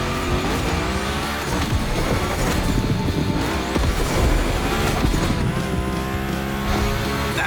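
A car in The Crew Motorfest slides through a gymkhana course, its engine roaring steadily and close while tires squeal and skid throughout, with no talking.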